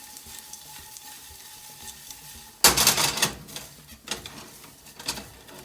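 Bread crumbs are stirred and pan-fried, faint scraping at first, then a burst of louder sizzling and scraping as they are tossed, followed by a few more brief stirring scrapes.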